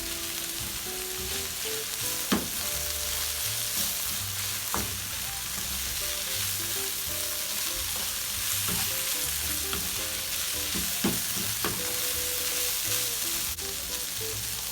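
Broccoli hits a hot pan while chowmein with chicken and shrimp cooks, giving a loud, steady sizzle with scattered stirring clinks and scrapes throughout.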